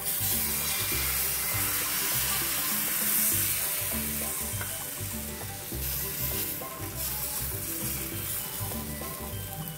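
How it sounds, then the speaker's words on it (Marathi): Mixed dal dhirde batter sizzles on an oiled griddle, a loud, close, continuous crackling hiss with no one speaking. "आता मी थोडंसं तेल घालून घेतो त्याच्यावरती, पहिल्यांदा थोडा तवा सेट करण्यासाठी, आणि ह्याच्यावर आपण हे धिरडं घालूया"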